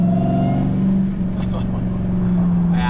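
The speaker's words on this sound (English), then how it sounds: "I love the sound of that supercharger" A supercharged Dodge Hellcat Redeye engine runs loud and close, a deep, steady droning growl that dips briefly and builds again, with faint voices underneath.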